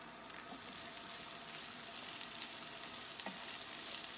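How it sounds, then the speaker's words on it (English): Sliced onions and fennel being stirred in a frying pan, a soft steady sizzle with a couple of light scraping strokes of the spoon, close and fairly quiet. "And then just stir it up in the pan, sort of break up the onions a little bit as you go."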